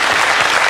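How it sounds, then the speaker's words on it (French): Studio audience on a French television show applauding a guest before he sings, a dense, loud burst of clapping filling the brief moment without pause. "On peut quand même applaudir Enrico qui va nous chanter une chanson en anglais."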